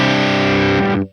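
A distorted electric guitar chord played through a Cartographer amp model on a Line 6 POD Go rings loud and sustained, then cuts off abruptly after about a second.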